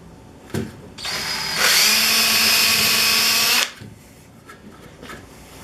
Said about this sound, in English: I'm using a 3/32 little bit just to pre-drill this hole.